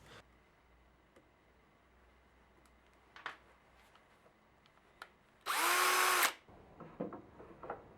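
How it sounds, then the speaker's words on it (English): A power drill whirs into a wooden board edge using a drilling template, one loud, steady burst of under a second, surrounded by quiet clicks and light handling noises. "With the drilling template, you always drill vertically and exactly in the middle of the edge of the board."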